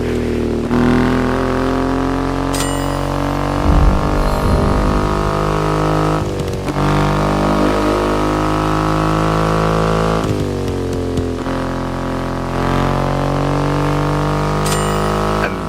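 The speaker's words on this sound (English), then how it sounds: "An extreme motorcycle with a huge presence." Engine of a Triumph Rocket 3 motorcycle with a 2.5-litre engine in the video game The Crew Motorfest: a loud, steady, deep engine drone with strong harmonics and a few shifts in pitch as it revs, running continuously with no talking.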